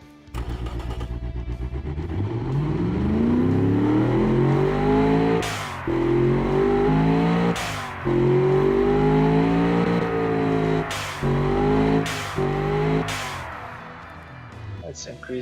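A 4.6-liter, 516-horsepower car engine revs hard, its pitch climbing and holding high, broken by several brief drops between bursts, loud and close.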